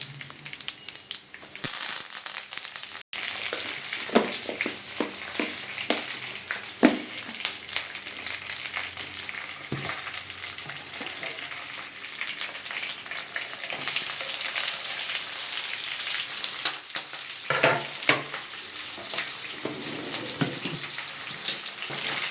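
Mustard seeds, cumin, chana dal, urad dal and curry leaves fry in hot oil for a dondakaya stir-fry, a steady close sizzle with scattered crackles and pops, gently stirred, without talk.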